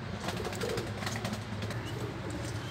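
Pigeons cooing softly and steadily in a loft of flying pigeons, including a Teddy pair, a Sialkoti-Teddy cross and banded birds, a low continuous murmur with light rustling throughout.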